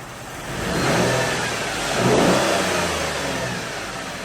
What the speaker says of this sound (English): I'm going to give it a couple revs